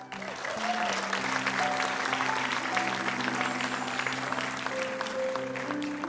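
An audience applauds comedians at a stage comedy show, a loud, steady wash of clapping sustained throughout. Faint tones and hum sit beneath it.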